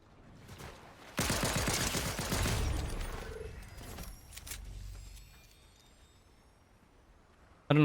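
Sniper and automatic gunfire in a Fortnite match: a loud burst of shots and crackling fire near the start, fading into scattered mechanical clicks and quieter rattles, ending with a sharp report.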